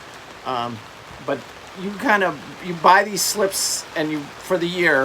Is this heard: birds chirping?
no